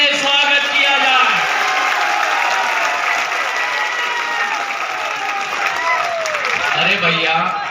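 Sustained crowd applause at a BJP election rally in Ashok Nagar, held for Chief Minister Yogi Adityanath, a dense, steady clapping that fills the whole stretch with faint cheering mixed in.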